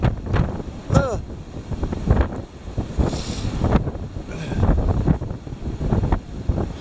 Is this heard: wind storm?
yes